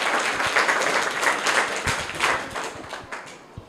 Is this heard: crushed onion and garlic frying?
no